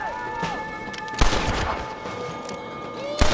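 Gunfire rings out in Red Dead Redemption on Xbox One: two sharp, loud shots about two seconds apart, with fainter scattered shots and a shouted voice in between.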